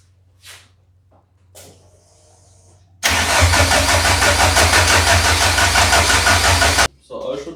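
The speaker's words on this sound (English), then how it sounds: "the engine won't start, and now we crank it a little bit" A VW Jetta MK2 engine cranking after a rebuild: starter motor churns loudly and steadily for several seconds without firing, then cuts off abruptly, with brief sounds before and after.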